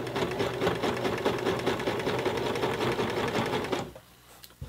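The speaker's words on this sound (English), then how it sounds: "when you're sewing these jeans on these home machines, don't go too fast" A home sewing machine stitches a jeans hem in a steady, fast mechanical clatter, then slows and stops near the end, leaving a quiet hum.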